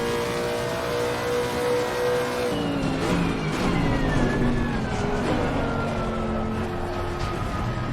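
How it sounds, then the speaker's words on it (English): Race car engine in the Assetto Corsa Competizione racing game: a loud, sustained engine roar that climbs steadily in pitch through the second half as the car accelerates. No one talks. "Feels like I'm driving a V8 supercar, seriously."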